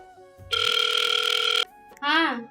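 A telephone rings with a steady electronic tone for about a second during a family phone conversation about Rakhi, followed by a short voice.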